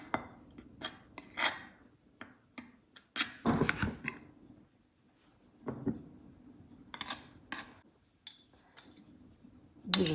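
An egg stirred with a utensil in a bowl, with irregular scraping and clinking strokes coming in short clusters separated by quiet pauses, close and fairly soft.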